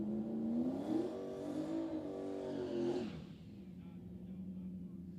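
A drag race car with a small LS engine and a big single turbo revs loudly and close, its pitch rising and falling over about three seconds before dropping back to a steady idle rumble.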